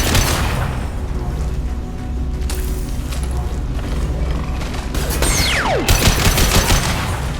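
Gunfire crackles in a squad firefight in Mass Effect 2, dense bursts of shots and booms layered over a low mechanical rumble, with a sharp falling whine near the end.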